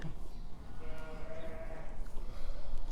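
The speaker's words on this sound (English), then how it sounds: "Logie's telling us this is all the pregnant sheep in here" Pregnant ewes in a lambing shed, one clear bleat rising briefly through a busy background of shuffling livestock and soft murmuring voices, fairly close and moderately loud.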